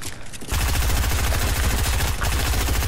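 Combat AR assault rifle in Fortnite firing a sustained rapid automatic burst, loud and close, a steady stream of shots with a brief pause near the end.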